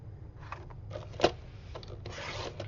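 Heavy 110-pound cardstock is cut for album flanges, giving close, soft scraping and rubbing strokes with one sharper snip near the middle, quiet and uneven.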